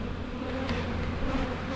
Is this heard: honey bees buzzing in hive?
yes